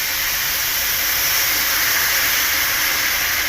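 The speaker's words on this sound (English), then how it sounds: "what's happening here is the wine is reacting with that hot pan" Steady bright sizzling hiss of wine hitting a hot frying pan to deglaze it, constant and close, with no talking.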